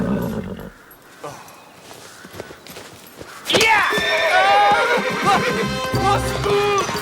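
A horse lets out a loud, close, drawn-out neigh that rises suddenly after a quieter stretch of scuffling and faint movement.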